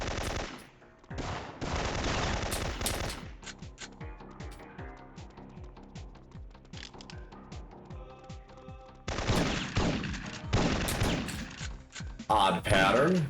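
Gunfire in Syphon Filter, loud sustained bursts of automatic fire at the start and again near the end, with rhythmic quieter shots between them while someone talks over the action.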